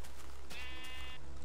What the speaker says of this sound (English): Oh crap, I don't want to kill this sheep.